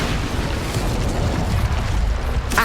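The Incendio fire spell in Hogwarts Legacy roars as a sustained, dense fiery blast, loud and close, with a brief burst near the end.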